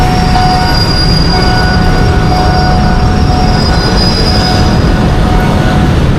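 From inside a small metro train on an airport connecting line in Thailand, a loud, steady rumble of running carriages is heard, with thin, sustained wheel squeals riding over it and no talking.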